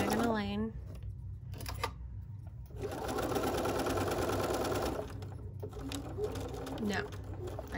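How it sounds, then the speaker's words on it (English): A sewing machine stitches a slow diagonal line, running in short bursts with a steady mechanical whir, close and clear, with a voice talking between and over the stitching. "sew your diagonal line."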